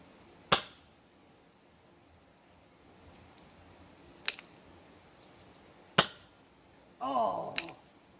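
A Nerf blaster with a brass cylinder fires foam darts: four sharp, snappy pops spaced a few seconds apart over quiet background, with a short mechanical whirr and rattle just before the last shot.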